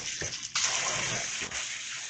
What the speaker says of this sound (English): We are going to run a little bit of cool water over them.